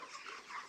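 Broiler chickens about 30 days old cluck together in a poultry house on a litter floor, a brief, steady, close flock murmur with no voices over it.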